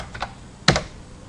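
A few quick keystrokes tap on a Bloomberg terminal computer keyboard, close and crisp, with one sharper press standing out among lighter clicks.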